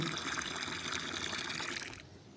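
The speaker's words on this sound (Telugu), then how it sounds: "ఇప్పుడు మిగిలిపోయిన దాన్ని ఈ హాఫ్ బకెట్లో పోసుకుని వస్తే సరిపోతుంది" Liquid pours steadily into a half bucket: leftover banana and jaggery solution splashing and trickling for about two seconds before it tapers off.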